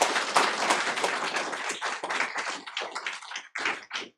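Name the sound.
audience applause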